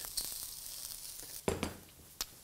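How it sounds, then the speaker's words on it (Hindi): Onions fry briefly in a pan for veg chowmein, a soft, quiet sizzle with a few sharp clinks and stirring scrapes close by, no talk over it. "प्याज को हम भूनेंगे ज़रा सा दो मिनट से ऊपर नहीं"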